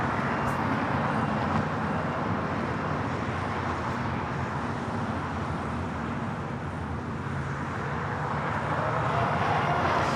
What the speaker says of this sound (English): Flight 26 coming in from Tokyo Haneda on this American 787-8 Dreamliner